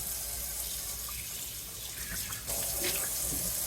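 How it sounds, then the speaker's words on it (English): Hot water runs steadily from a tap as parts of an OutIn portable espresso maker are rinsed under it, a constant close splashing hiss that shifts slightly in tone as the parts move under the stream. "Unscrew, remove the basket, run it under some hot water,"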